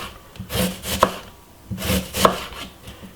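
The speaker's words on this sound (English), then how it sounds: "And this is the red onion. I'm gonna cut them like," A knife chops through a red onion on a cutting board in two close, firm bursts of rhythmic strokes, with no voices.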